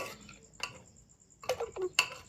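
A spoon clinks and scrapes against a metal pot while beaten egg is stirred into mutton paya soup, giving a few sparse, close taps and scrapes with quiet gaps between them.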